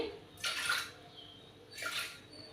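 Water pours in two short splashy bursts into a metal pressure cooker holding chana dal, separated by a brief pause.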